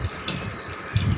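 Soya chunk balls drop one by one into a pan of hot oil for deep-frying, setting off a brief, bubbling, rushing sizzle with a couple of low gurgling surges.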